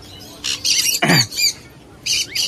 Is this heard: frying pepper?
no